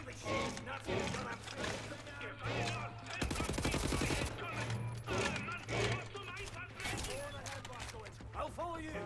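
Gunfire in the Wolfenstein: The New Order shooter, sharp shots and a rapid burst of automatic fire mixed with clattering effects and in-game character voices speaking over and between the shots.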